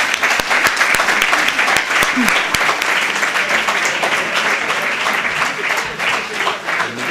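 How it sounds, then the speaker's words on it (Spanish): An audience at a panel event on brands in social media applauds, with dense, steady clapping that carries evenly through the whole stretch and occasional louder individual claps standing out near the front. "muchísimas gracias, un aplauso para ellos"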